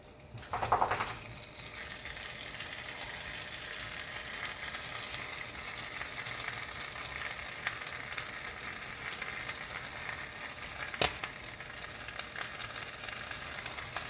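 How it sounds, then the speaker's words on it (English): Two slices of ham sizzle steadily in a hot pan for a breakfast sandwich, a continuous close frying hiss with a brief louder burst near the start and a sharp clink partway through, no talking. "let's put the ham in. I'm using 2 slices of ham. for this, so straight into that."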